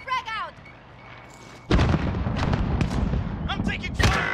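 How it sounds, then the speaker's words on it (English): A frag grenade detonates in Call of Duty: Modern Warfare, a loud sudden boom followed by a long rumbling roar and debris. A voice speaks briefly just before the blast. "Tossing a frag out."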